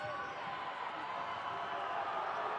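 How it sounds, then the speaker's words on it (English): Arena spectators at a volleyball match cheer and make a sustained racket under an announcer's commentary as a serve is set up near match point. "Crowd making all kinds of racket here."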